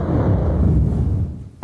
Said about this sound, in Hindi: धड़ाधड़ तोपों की आवाज।